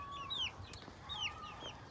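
Faint, thin calls from free-ranging four-week-old chickens over a steady low background hum; a few short rising notes, soft and somewhat distant.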